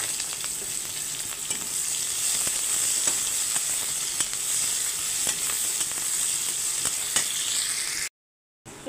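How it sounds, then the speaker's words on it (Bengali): Chopped onions fry in oil with bay leaf, cardamom and cinnamon for a rui fish bhuna, making a steady close sizzle with occasional clicks of stirring before a brief cut near the end. "আর দিয়ে দিচ্ছি পেঁয়াজ কুচি"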